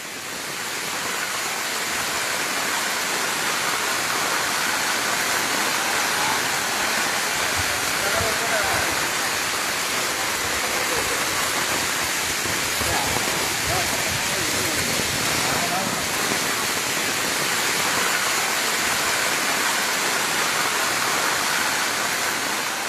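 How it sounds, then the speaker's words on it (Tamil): Heavy monsoon rain pours down in Kerala's Ernakulam and Kollam districts, a dense, steady, roaring hiss of downpour that stays loud and unbroken throughout. "எர்ணாகுளம், கொல்லம் மாவட்டங்களில் பரவலாக மழை பெய்து வரும் நிலையில்"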